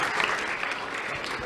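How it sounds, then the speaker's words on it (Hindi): Applause from a student camp audience for a girl student, a dense burst of hand clapping that stays loud and steady throughout, close by with no voices over it. "ताली बजाएं इस बच्ची के लिए"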